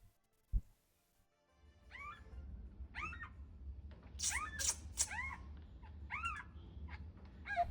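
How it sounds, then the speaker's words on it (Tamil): A very small cat encountered on a walking trail in an eco garden park in Singapore mews repeatedly in short rising-falling calls, several in a row, over low outdoor rumble and a brief thump near the start. "இந்த பூனைய பார்த்தா வாக்கிங் போயிட்டு இருக்கும்போது ஓடி வந்து எங்கள பார்க்கும்"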